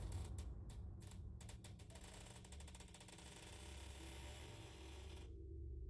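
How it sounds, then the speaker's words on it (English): A bedroom door creaks open quietly with a long, faint series of rapid ratcheting creaks that slow and then stop, leaving near silence. "Door opening."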